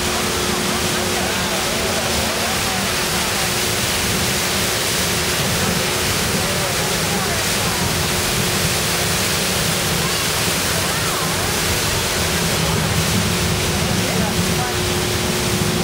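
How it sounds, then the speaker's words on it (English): A constant roar of rushing, falling water fills the whole stretch, loud and unbroken, heard from beneath a waterfall at the Dallas Zoo. "But it gets loud under the waterfall"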